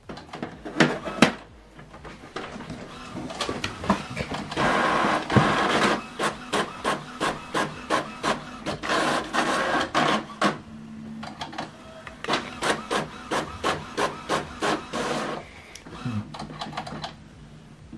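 An Epson WF-M4119DW printer prints a document, giving a steady run of rhythmic mechanical clacks and whirring feed strokes at close range, with short pauses between bursts and no talking.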